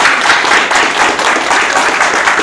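Dense, loud applause from a crowd fills a birthday celebration, steady clapping sustained without a break.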